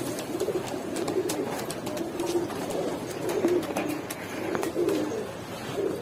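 Several Rajshahi Giribaz pigeons keep up a steady, overlapping low cooing close by, with soft rustles and faint clicks in the background.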